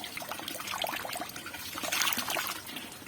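Small sesame seeds are washed by hand in water, with continuous trickling, swishing and pouring splashes close by, fairly even in level throughout and without speech.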